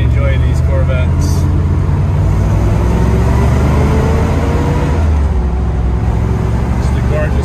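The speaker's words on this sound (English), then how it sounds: "I'm actually gonna do a little brake check here." A 1971 Chevrolet Corvette Stingray driving on the road during a brake check, a loud continuous low engine and road rumble from inside the car, with brief voices over it.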